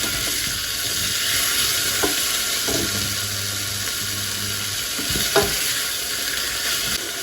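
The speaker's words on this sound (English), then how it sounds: "And then I'm going to add the onions. They're all coated in the oil." Onions coated in olive oil sizzle steadily in a pan on the stove, with a constant bright frying hiss throughout and a few soft stirring knocks.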